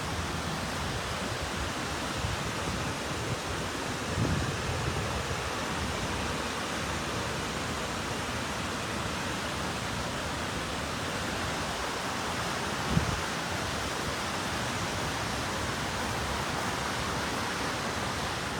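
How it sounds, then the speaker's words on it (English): Cascading water at the World Trade Center memorial pools in New York City keeps up a dense, even rushing hiss throughout. It stays unbroken and fairly loud, with only a couple of brief soft knocks and no talking. "It's very calming to hear the waterfalls."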